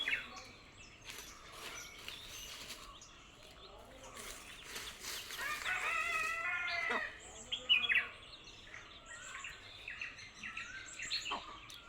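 Mother hens and their chicks in a yard, with soft clucks and thin high chick peeps scattered through quiet outdoor background, faint and at a little distance.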